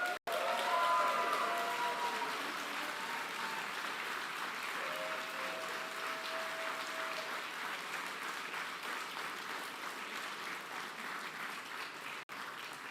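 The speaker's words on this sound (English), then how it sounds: "give a big round of applause to my bosses, the kids and the teachers of the St." Warm, steady applause from an audience at a Liberal leadership launch event, honoring the kids and teachers of the St. Albans Boys and Girls Club; continuous clapping, moderately loud, lasting throughout.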